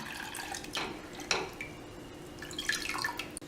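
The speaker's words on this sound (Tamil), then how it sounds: "கொஞ்சம் தண்ணி விட்டுக்கலாம்." Water trickles and drips into a cooking pot in short splashes, close by, with a few brief pours against a faint steady hum; no talking.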